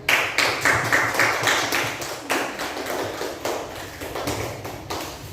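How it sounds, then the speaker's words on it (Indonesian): Students in a classroom clap for a presenting group, a sparse, uneven patter of individual claps with sharp taps and thuds, moderately close and not very loud. "kita berikan tepuk tangan untuk kelompok 1"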